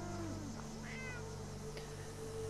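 A cat gives a single faint meow in a Fallout 4 settlement at Somerville Place, heard over a steady low hum and ambient game noise.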